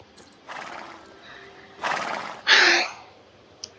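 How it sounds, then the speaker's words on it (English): An American Quarter Horse whinnies in loud, shrill bursts, the last one closest and strongest, with faint scattered hoof clops between calls. "I think it's an American Quarter Horse."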